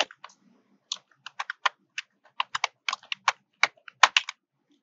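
A bank account number is keyed in on a computer keyboard, a close series of crisp, separate key clicks in an uneven rhythm with brief gaps, no voices.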